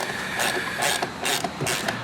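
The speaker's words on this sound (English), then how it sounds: "grab our old friend 10mm ratchet or wrench and loosen these hose clamps here" A 10mm ratchet clicks in quick repeated bursts while loosening hose clamps in the engine bay of a Kia Sportage 2.7L V6, the sharp pawl clicks close and clear with no talk.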